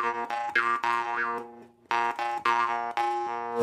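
A brass jaw harp, or drymba, is twanged nearby in two short bursts of rhythmic, buzzy plucks with vowel-like wah shifts and a brief pause between phrases.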